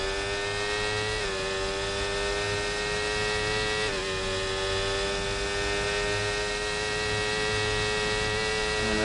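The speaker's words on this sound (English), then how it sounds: "you can just hear everybody screaming with their cars battling" Several racing cars in the F1 24 video game at the Brazilian Grand Prix sprint scream past in a steady, loud, layered engine whine, the pitch dipping briefly as gears shift, with no voices over it.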